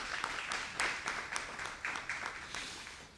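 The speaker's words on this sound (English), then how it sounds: "Give him a round of applause." An audience at an evening lecture on artificial intelligence in sport claps for the session chair, a moderately quiet, crackling round of applause with scattered sharper claps that continues evenly throughout.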